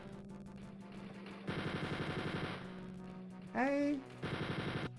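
Machine gun fire in the video game Wolfenstein 3D, two rapid bursts of rattling shots over a droning game music loop, a rising electronic tone, then another burst, with a brief spoken word.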